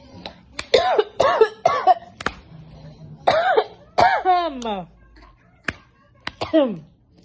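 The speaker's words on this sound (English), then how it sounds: "I was really coughing." Several sharp coughs in close succession, loud and near, with brief gaps and short vocal sounds between bursts.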